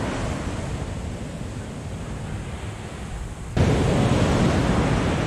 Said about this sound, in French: Bien, regardez cette jolie plage.